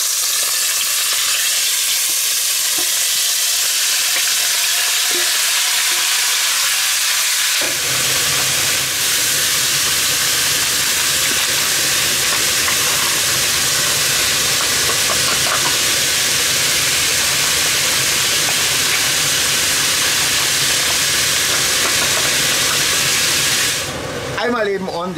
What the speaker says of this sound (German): Einmal eben ordentlich anbraten und dann kommt es eh gleich wieder aus dem Topf raus.